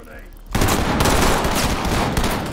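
Gunfire in the tactical shooter Ready Or Not during a police raid on a gas station: after a quiet half second, a loud, sustained burst of rapid automatic shots crackles continuously to the end, with no voices over it.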